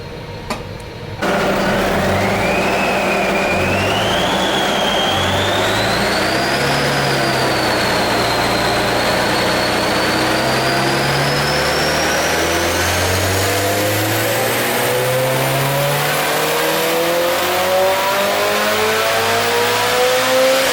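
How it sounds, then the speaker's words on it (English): Subaru engine fitted with an HKS Kansei intake revving steadily upward and holding high rpm, a loud, close, continuous drone with rising whine and intake roar, no voices. "Rene's been lucky to score one of these HKS Kansei intakes from Japan, so we'll see if it's going to make any more power"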